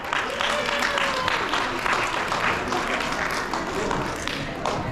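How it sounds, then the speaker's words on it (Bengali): A room full of audience members claps steadily for a small Bangladeshi community family in Salt Lake, the applause dense and sustained throughout, with a few voices faintly mixed in. "সেই পরিবারের জন্য একটি করতালি হয়ে যায়।"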